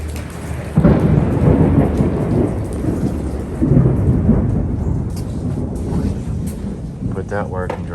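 A heavy thunderstorm pours rain outdoors, with steady loud rainfall on surfaces and deep rolling thunder rumbling through, plus occasional wind buffeting the microphone.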